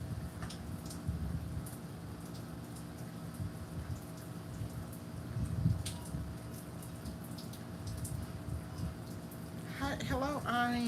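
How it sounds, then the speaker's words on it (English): Rain patters steadily onto a patio with a container garden, a soft continuous hiss with scattered drop ticks throughout, and a voice breaks in near the end. "just listen to the sounds of the raindrops"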